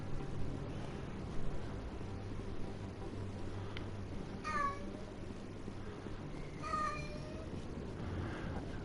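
Cat named Max in Mass Effect Legendary Edition meows twice, two short clear calls a couple of seconds apart over a low steady background hum.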